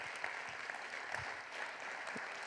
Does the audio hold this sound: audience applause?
yes